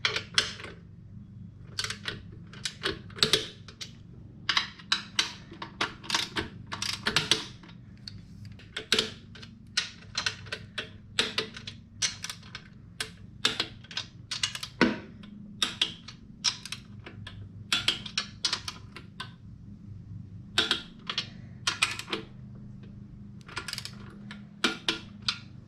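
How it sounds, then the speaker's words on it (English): Bolts on a Honda J-series intake spacer are snugged down with an Allen socket and ratchet, giving dense bursts of sharp, close metallic clicks in irregular runs over a quiet background. "That's what I'm going to be tightening it down with on the Allen bolts, and then a 13mm on the rest of them."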